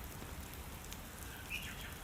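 Rain falling outside a window on a stormy afternoon, a soft steady hiss of drops heard faintly from indoors, with a brief chirp-like sound midway.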